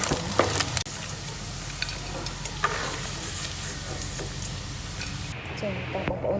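Pork pieces stir-frying in a pot for Cambodian bamboo shoot herbal soup, with a loud continuous sizzle and repeated stirring scrapes close up, and a few sharper clatters early on.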